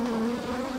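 Honey bees buzz steadily at a crowded, fast-growing beehive, a close, continuous hum with no voices.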